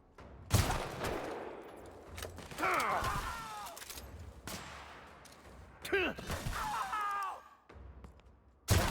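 Gunfire and weapon impacts from the video game The Outer Worlds, with several loud bursts of shots and crashing hits separated by brief lulls, along with ringing, whining tails after the blasts.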